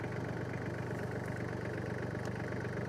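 A tractor engine runs at a steady idle-like drone while pulling an old tree root out of abandoned forest ground in Portugal. The hum is continuous and moderately loud, with no speech.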